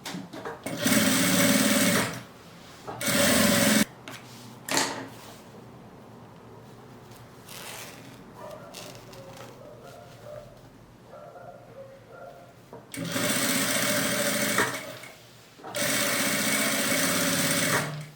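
Sewing machine stitching fabric bias binding for a portable baby changing pouch, running in several loud bursts of steady whirring separated by quieter pauses with light handling noise.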